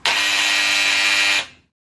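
Close, harsh buzzing of electric hair clippers running steadily for over a second before cutting off into silence.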